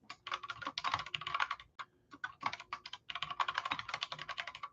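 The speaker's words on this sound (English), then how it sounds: "Sorry, my typing's slow." Rapid clicking of keys on a computer keyboard, close and fairly quiet, in bursts of typing separated by short pauses.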